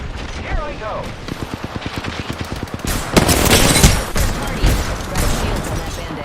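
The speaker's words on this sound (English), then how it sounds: "Opening fire on the enemy." Rapid bursts of automatic gunfire in a shooter video game, close and loud, building into dense overlapping fire with heavy booms in the second half.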